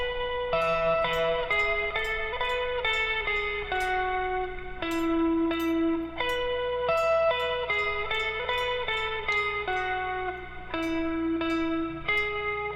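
Guitar playing the four-measure part from a song, with a run of steady picked notes and chord changes, ringing with slight effects and reverb, continuous and alone with no talking.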